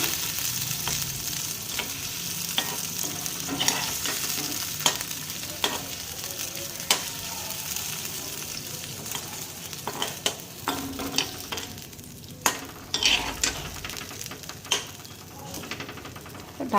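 Fish sizzling in a pan with mustard paste, a steady soft frying hiss broken by sharp crackles and pops and the scrape of stirring, close and fairly quiet.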